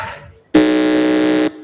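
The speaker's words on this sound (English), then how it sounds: "your buzzer test" Quiz competition buzzer sounding once during a buzzer test at a junior high school contest, a loud steady electronic tone holding for about a second before cutting off, after faint background noise.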